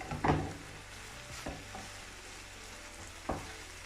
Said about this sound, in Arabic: كنرجع للخليط ديالي وكنبقى كنحرك هكا